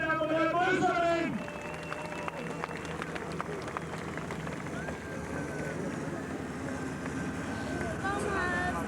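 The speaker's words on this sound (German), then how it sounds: "Und ihr hört Ihren Applaus jetzt, meine Damen und Herren" Spectators at a 1994 tractor pulling event in Oldendorf keep up a steady outdoor wash of applause and crowd noise, following a loud announcer voice at the start, with engine-like drone underneath.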